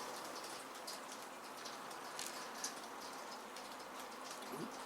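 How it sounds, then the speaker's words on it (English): Soft, steady rainfall patters in the background, faint and distant, with occasional sharper drips landing nearby. "It's raining here in Battlehammer Towers."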